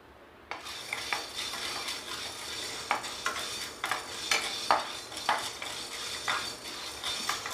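Toor dal and black peppercorns being dry roasted in a pan for rasam powder, with a steady scratchy rustle of grains under repeated stirring and scraping strokes of a spoon against the pan, close and fairly loud.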